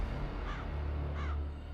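Crows at the old Borodino battlefield give two distinct caws, about a second apart, moderately faint over a steady low drone.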